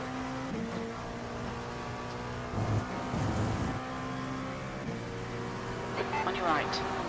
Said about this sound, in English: There's a group of faster cars bearing down on you.